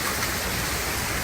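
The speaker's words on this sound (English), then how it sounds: "it's been raining most of the day" Heavy rain during Hurricane Milton in a Parrish, Florida neighborhood, a dense, loud, continuous roar of falling water with no pauses or voices.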